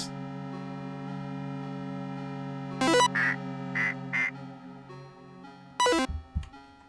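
Duck quacks from the video game Tormenture sound over a droning, buzzy game tone: a burst of chirpy quacks in quick succession, then another quack a few seconds later, clear and prominent.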